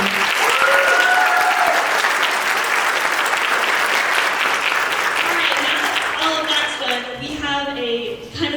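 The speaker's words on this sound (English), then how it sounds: "Can we get a round of applause for Mason?" Loud, sustained applause from an audience at a school district event fills the room. A few whistles or cheers rise over the clapping, which thins out near the end as voices and music come in.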